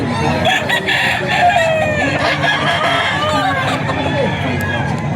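A gamecock stag crows repeatedly at a seller's farm in Bocaue, with clucking fowl and murmuring people in the background around the shrill, wavering crows.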